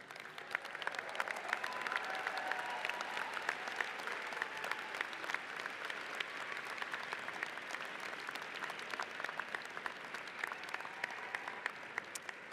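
Graduates at a university commencement ceremony applaud steadily, a broad, even clapping from a large seated crowd that is fairly faint and distant, lasting throughout.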